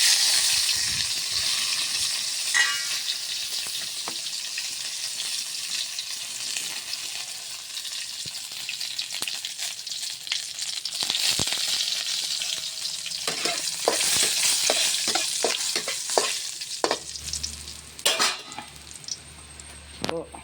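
Curry leaves frying in hot oil during a tempering with popped mustard seeds and green chillies, giving a steady loud sizzle with crackles and sharp spits building toward the end and occasional stirring clinks.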